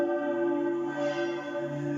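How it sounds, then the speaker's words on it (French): Church bells ring out from a neo-Byzantine bell tower that houses a very large, harmonious bell, the sustained tones overlapping in a steady, resonant peal with no voices. "Nous écoutons ces cloches qui nous appellent."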